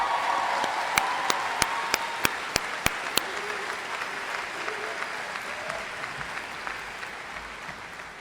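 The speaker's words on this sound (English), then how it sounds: "How about a round of applause for them?" A university commencement audience applauds, a broad, distant wash of clapping from a large crowd, steady throughout, with a few sharp, louder claps close by near the start.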